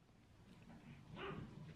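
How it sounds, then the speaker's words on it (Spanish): A pet dog barks and whimpers faintly indoors at home as someone arrives at the door, a short muffled burst of barking toward the end under low room noise. "el Toby ya está ladri ladri"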